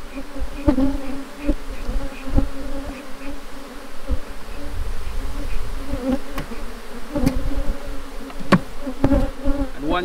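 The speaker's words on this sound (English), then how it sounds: "once I finish shaking out the bees, I'm just gonna smoke down the rest into the box" A steady, dense buzzing of many honeybees being shaken and smoked into a shaker box fills the clip, with occasional sharper knocks and bumps from close by.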